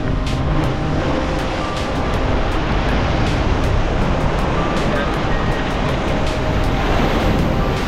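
Ocean waves on a Boracay shore make a loud, continuous roaring wash of surf, heavy with wind rumble across the microphone.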